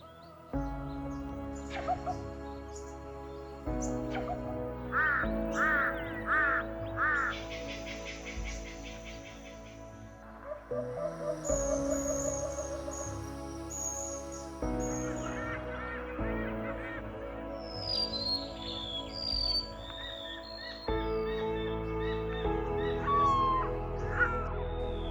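A crowded island seabird colony calling at length, with dense overlapping honks, caws and shrill cries from many species, layered and continuous, some close and loud, others farther off, with no voices.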